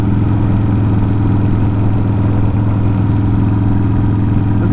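A small 43-horsepower motorcycle engine runs steadily along a back road in Arkansas, a continuous droning hum with a low clattering pulse, loud and close throughout with no pauses or talk.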